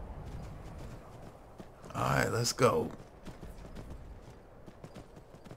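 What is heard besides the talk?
horse hooves galloping, from a video game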